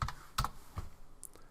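A few separate keystrokes click on a computer keyboard while a zip code is entered, close and fairly quiet, with short gaps between presses.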